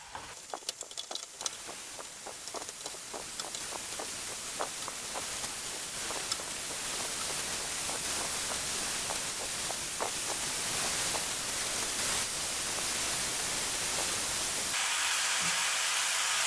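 Thinly sliced pork belly sizzles and spatters in a hot pan, a loud, steady, close crackle that runs unbroken throughout with no talking.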